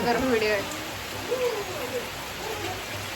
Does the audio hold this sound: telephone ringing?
no